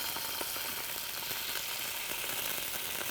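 A tortilla fries in beef fat in a cast iron pan heated by a pizza oven, giving a dense, continuous crackling sizzle that stays close and even throughout.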